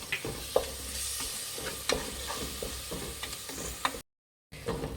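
Thick masala with curd stirring and frying in oil in a pan for drumstick biryani, a soft steady sizzle broken by sharp scraping clicks of the spoon, alone with no talk and a brief dropout near the end.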